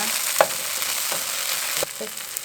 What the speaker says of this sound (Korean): 더 깊은 팬에다가 볶을 수 있는데 어, 볶는 거는 다 같으니까요